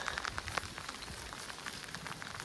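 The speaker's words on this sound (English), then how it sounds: "It's raining pretty good now." Rain falls steadily on a cattle farm on a cold, wet day, a dense, even patter of drops hitting surfaces with scattered closer splats, fairly quiet and with no voices.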